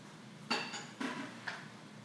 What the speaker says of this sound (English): we're going to stir them all together until they combine very well